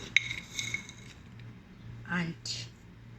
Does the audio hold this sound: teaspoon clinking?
yes